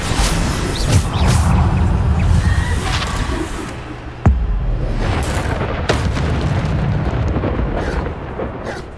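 The Bombarda spell goes off in Hogwarts Legacy with loud booming blasts and crashing debris, a sharp crack near the middle amid a dense, rumbling layer of combat noise.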